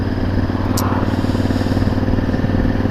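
Motorcycle with heated grips and hand guards riding along a road, a loud steady engine drone with rushing wind noise heard from the rider's position throughout.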